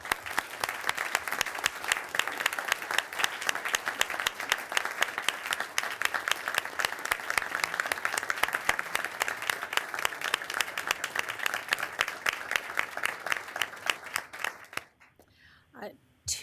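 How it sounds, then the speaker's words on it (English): A large audience at a Chief Justice's report event gives a long, steady round of applause, crisp dense clapping lasting about fifteen seconds before cutting off, with a speaker's voice briefly following. "I'd like to salute you all with a round of applause."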